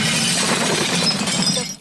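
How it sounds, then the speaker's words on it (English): A pickup truck crashes into a grocery store, with loud, dense glass shattering and breaking debris filling the moment continuously before cutting off abruptly. "A pickup truck smashes into a grocery store."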